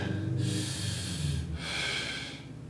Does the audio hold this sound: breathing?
yes